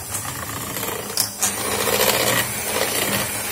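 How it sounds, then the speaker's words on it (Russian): An electric mixer whips cream for a christening cake at high speed, a steady close buzzing whir with scraping rattles against the bowl, heard alone. "Теперь беру миксер. И мне нужно взбить эти сливки"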